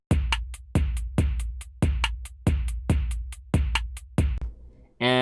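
A drum machine pattern played on a different kit: punchy kick-and-snare hits with bright hi-hats repeat in a steady loop for about four bars, close and loud, then stop, with a short tonal blip at the very end.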